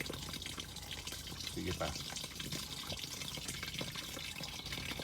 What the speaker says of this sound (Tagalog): Babasain lang po muna natin yung bigas.